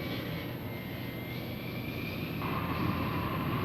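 Military jet aircraft engines roaring on takeoff at an air base, a steady, distant, sustained rumble and whine that swells slightly toward the end.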